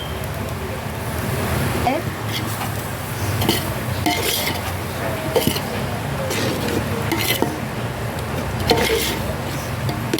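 Yogurt is stirred into chicken biryani in a pot over a village-style wood-fired stove. Repeated scraping and clanking strokes sit over a loud, constant background rush.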